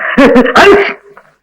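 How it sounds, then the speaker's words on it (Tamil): A man gives a series of loud, voiced sneezes in a 1984 Tamil comedy scene, in quick bursts close to the microphone that fade into a short quiet tail. "இப்படியே நீ தும்மிக்கிட்டே இரு"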